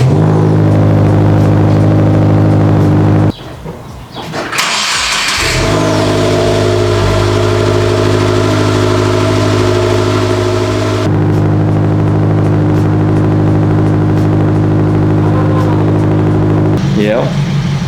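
A Subaru WRX fitted with a Remark axleback exhaust and 4-inch tips runs loud with a steady tonal drone, cuts out briefly, then starts again and settles into a deep, even idle, while people talk nearby.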